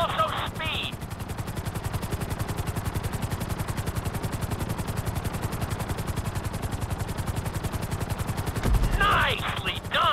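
Helicopter flying in the video game GTA 5, its rotor a loud steady rapid thudding throughout, with brief bursts of radio-style game voices at the start and end.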